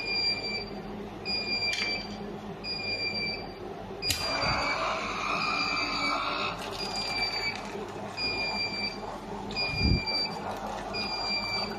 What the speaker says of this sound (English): When water chiller is full, it will stop alarm and the lamp become normal.